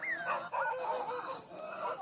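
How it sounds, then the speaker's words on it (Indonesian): Dogs growl while fighting, a close, faint, continuous snarling with whiny rising and falling tones and no pauses across the short stretch. "suara geraman kembali terdengar"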